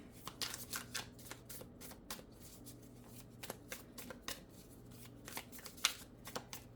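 Cards being shuffled close by, soft riffles and snaps repeating in quick bursts, quiet overall with a faint low hum underneath.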